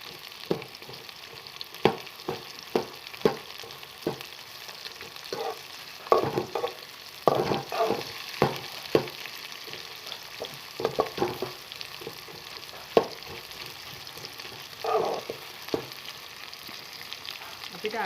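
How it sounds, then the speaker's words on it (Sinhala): Potato pieces sizzle steadily in hot oil for Azerbaijani noodles, close up, with frequent clinks and scrapes of a spoon stirring the pan throughout. "අපිට අල ටික ටිකක් වැඩිපුර බැදෙන්න ඕනනේ."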